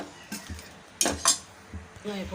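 A spoon clanks and scrapes against a metal pot several times in uneven bursts, close up, with a brief bit of quiet sound between strokes.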